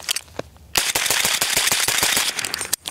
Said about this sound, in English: So I got 10 rounds loaded up, 150 grain, SuperVel, 300 Blackout supers, and I'm gonna shoot into the berm here